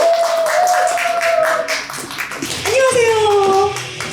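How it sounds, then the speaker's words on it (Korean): An audience at a bookshop talk concert claps to welcome author Go Jeong-sun to the stage, a short patter of clapping under and between voices speaking and calling out. "박수로 무대로 모시겠습니다."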